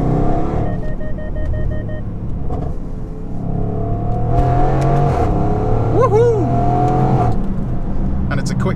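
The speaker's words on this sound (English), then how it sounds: "Now this has got the rather rare Valvetronic exhaust system, which you can hear now" A 2016 Overfinch Range Rover SVR engine revs loudly through its Valvetronic sport exhaust, rising and falling in pitch, with someone talking over much of it.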